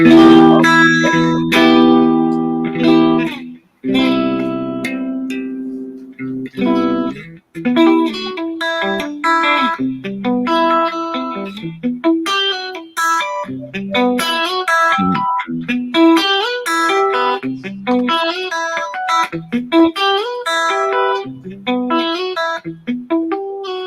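An electric guitar with a clean tone and echo effect plays a flowing run of notes and chords, loud and close, with sustained ringing tones. A player jams with the instrument somewhere between a guitar and a bass.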